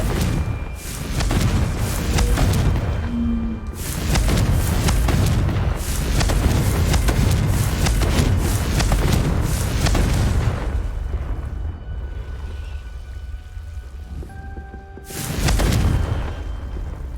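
Repeated booming fire-spell blasts from the Confringo curse in a Harry Potter video game, several loud bursts with rumbling tails separated by brief quieter gaps.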